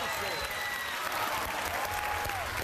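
Audience applause rings out at a televised dating show, a dense, steady burst of clapping from a crowd filling the whole short moment, with a voice or cheers mixed in.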